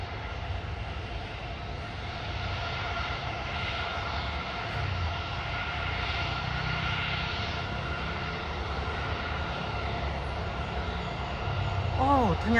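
A Super Air Jet airliner takes off at Husein Sastranegara airport in Bandung, a broad sustained jet roar heard from a distance that swells slightly toward the end, with voices talking over it.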